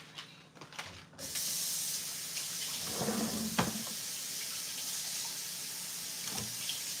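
Washing up at a kitchen sink, a tap turns on and runs in a steady close hiss of flowing water, with a few clinks and knocks of dishes beneath it.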